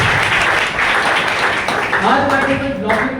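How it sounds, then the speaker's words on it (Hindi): An audience at a business plan presentation breaks into loud, sustained clapping, a thick wash of applause that continues as a voice rises over it toward the end. "जोरदार ताली"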